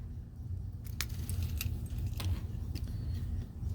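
Car keys hanging in a vehicle's ignition jingle with a few light metallic clinks against a steady low engine hum, close and fairly quiet with no talking.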